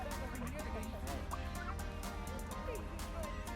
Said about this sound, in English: gobbling to the turkeys